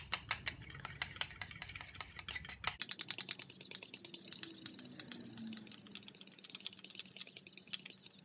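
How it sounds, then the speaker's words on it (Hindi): A fork stirs rice powder and orange peel powder together in a bowl, giving quick, rhythmic scraping clicks that continue steadily at close range. "मैं इसे फोर्क के साथ मिक्स करूंगी ताकि ये जल्दी हो जाए।"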